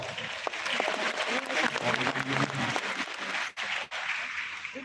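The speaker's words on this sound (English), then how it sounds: "Also, we give you another round of applause." An audience at a regional leadership training seminar breaks into steady applause that holds for several seconds, with two brief dips near the end. Voices can be heard under the clapping.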